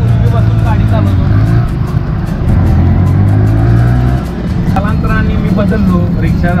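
A black-and-yellow Maharashtra auto rickshaw engine drones loudly and up close while driving, with its pitch shifting as it speeds up, and someone talks over it throughout.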